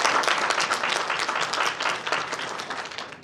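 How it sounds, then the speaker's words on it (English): Dense audience applause fills the room at an Auditor General of South Africa local government audit outcomes event, loud and continuous before slowly easing off, with no talk over it. "So I think we deserve a big round of applause."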